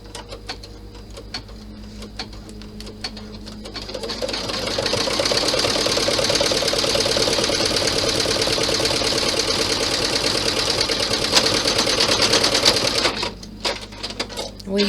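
Sewing machine stitching down fabric on a compact bag, a fast steady mechanical whir and rattle that starts gently, runs loud and continuous for several seconds, then stops with a few clicks.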